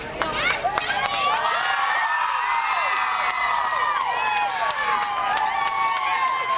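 A large outdoor crowd outside the Center County courthouse cheers and shouts excitedly after the Jerry Sandusky verdict, many voices overlapping in a continuous roar with scattered claps.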